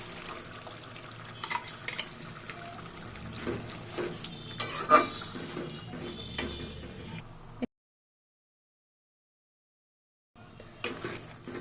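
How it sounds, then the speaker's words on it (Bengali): Salt, cumin powder, coriander powder and tomato paste are stirred and fried in oil in a pan for a prawn malai curry, with a soft sizzle and spatula scrapes, a silent break, then more stirring. "এখন ভালোভাবে মশলাগুলো কষিয়ে নেব"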